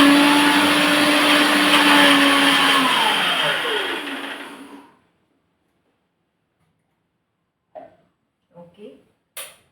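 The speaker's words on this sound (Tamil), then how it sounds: "அதனால் மையவே அரைச்சிக்கலாம்." A mixer grinder blending sweet corn into a smooth paste, a loud whirring motor that spins down and fades out after about five seconds, followed by silence and a few soft knocks.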